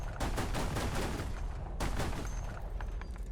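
Ha-Go tank cannon firing in a video game, two sharp loud blasts with rumbling tails and a rattle of background gunfire, close and without talk.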